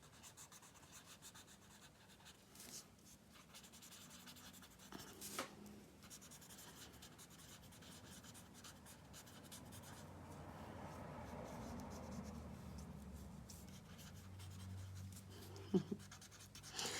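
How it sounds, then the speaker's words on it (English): A paper blending stump rubs graphite pencil shading across a sheet of paper, giving a soft, steady scratchy rubbing that runs close and quiet throughout, with brief louder scrapes near the end. "lay down an initial shade with my paper stump"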